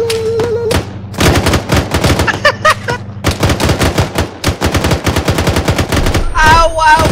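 Machine gun fire in ARMA 3, rapid loud bursts repeating almost continuously from a close mounted gun, with brief pauses between volleys and a few other game sounds.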